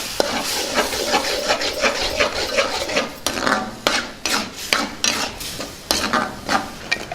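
A spoon scrapes and stirs tomato paste through pool makani potato curry in a pan, making quick, repeated scraping strokes with a soft sizzle underneath, close-up and with no voices.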